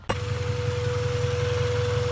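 Car engine breathing through a newly fitted pod air filter in place of the stock airbox, starting abruptly and settling into a steady, throbbing low idle with a faint whine on top, close and continuous.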